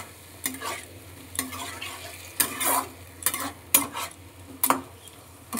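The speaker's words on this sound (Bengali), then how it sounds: "এইবার আমি আরেকটু নেড়ে নিচ্ছি চিংড়ি মাছ দিয়ে" Prawns frying in a pan being stirred with a utensil, about half a dozen rhythmic scraping strokes over a continuous close sizzle, with no speech.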